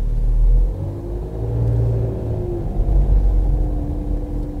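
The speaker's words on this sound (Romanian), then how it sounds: "Zgomotul de cutie e foarte distinct, așa cum ați observat." A Renault Koleos 2.0 Blue dCi 190 diesel with X-Tronic gearbox and 4WD hums steadily from inside the cabin while driving, a low engine and transmission drone swelling and easing without talk.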